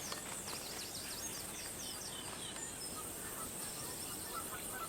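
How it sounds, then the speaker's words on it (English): Magpie geese call at a freshwater waterhole in Australia, their thin, repeated honks faint and distant over a steady hiss of outdoor ambience. "Others, like these magpie geese, migrate from other parts of Australia to these fresh feeding grounds"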